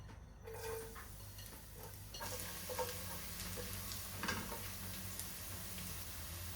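Onions sizzle steadily in hot oil, a constant crackling hiss close by, with faint clinks and stirring sounds and no voices.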